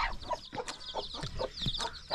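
A chicken clucks while feeding, giving a series of short, close clucks in an irregular rhythm with brief pauses between them.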